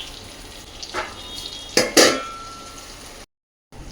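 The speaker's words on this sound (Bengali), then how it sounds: "ওইদিকে টিন্ডাটা ভাজা হচ্ছে, ভাজা বলতে ঢাকা চাপা দিয়ে সেদ্ধ" Round gourd (tinda) fries in a covered pan with a faint steady sizzle, broken by a few sharp metallic clinks of cookware around the middle and a brief moment of total silence near the end.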